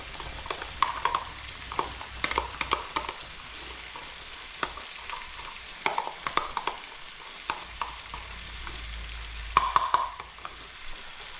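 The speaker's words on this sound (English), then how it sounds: "I'm going to take this tomato sauce and dump it in there." Tomato sauce sizzles and spits in a hot frying pan while a utensil stirs and scrapes, with sharp clicks and taps scattered through a steady fry hiss and a louder burst near the end; no voices.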